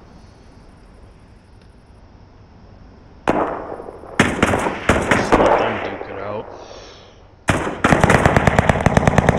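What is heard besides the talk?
gunshots in a video game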